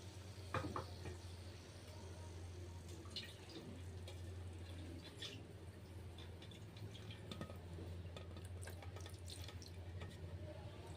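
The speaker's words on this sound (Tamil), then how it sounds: "இந்த பாத்திரத்தில் நம்ம கொஞ்சமாக தண்ணி ஊற்றி அதையும் இதுலேயே சேர்த்துடலாம்." Water is poured into a cooking pot while chicken biryani is being made, a soft steady splashing trickle with a few louder clatters near the start, fairly close and quiet, with no talk.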